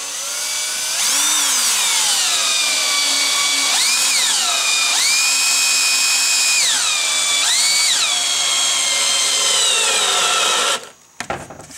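A cordless drill drives screws into wood while building a wooden forge, its motor whining loudly and rising and falling in pitch through several bursts, then cutting off abruptly.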